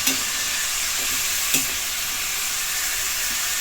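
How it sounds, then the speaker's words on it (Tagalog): Chicken feet cooking in soy sauce and cola sizzle steadily in a pot while a utensil stirs them, with a couple of sharp scraping knocks against the pan and no talking. "Tapos, halo-haloin natin."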